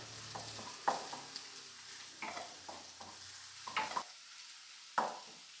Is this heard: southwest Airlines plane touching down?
no